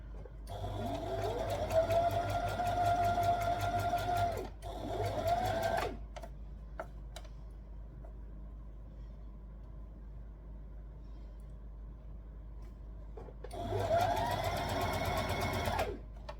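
A sewing machine stitches tee-shirt fabric in steady close-up runs: a long burst with a brief break, a quiet pause with faint handling clicks, then another short run of stitching.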